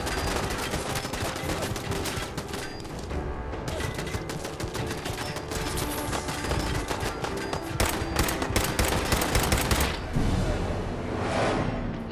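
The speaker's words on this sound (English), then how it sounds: "the worst thing here is that stupid machine gun turret" A machine gun turret in Fallout 4 fires long, rapid, sustained bursts of loud gunfire, densely packed shots with brief gaps between volleys, close and continuous with no talking.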